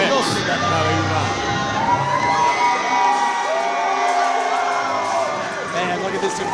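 A crowd at a live wrestling show cheers and shouts loudly and without a pause, with whoops and children's voices mixed in and a commentator talking over it.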